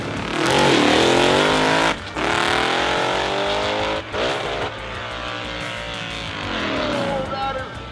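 A race car engine on a track roars past loudly, its pitch sweeping up and down through gear changes with brief drops between, while a commentator talks over it.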